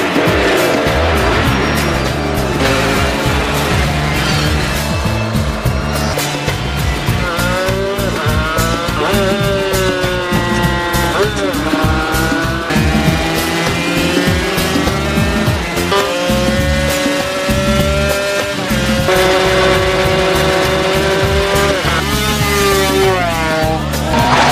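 Loud engines scream and rev continuously, gears shifting up and down as racing motorbikes roar past, with tire noise and background music.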